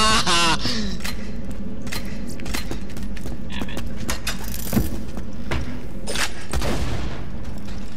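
Rocket explosions in Borderlands 2 burst repeatedly amid gunfire and mechanical clatter, sharp loud blasts scattered across a busy combat mix.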